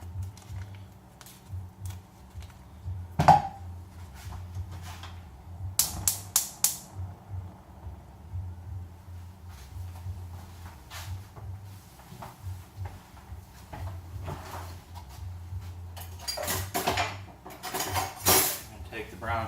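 A saucepan is pulled out of a kitchen cupboard while making caramel apple cobbler, with a few sharp metallic clanks and clatters of pots and pans scattered over a quiet room background.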